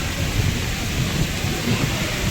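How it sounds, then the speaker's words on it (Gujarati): Heavy rain pours steadily with a deep rolling rumble of thunder underneath, loud and continuous throughout. "તો હજી પણ બધા વરસાદ બંધ થવાની રાહ જોવે છે"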